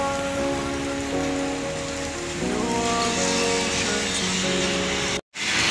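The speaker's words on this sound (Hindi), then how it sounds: "बहुत धुआंधार बारिश हो रहा है" Heavy rain pours down all around a hut in a steady, dense hiss, with a faint tonal hum running underneath and a brief dropout near the end.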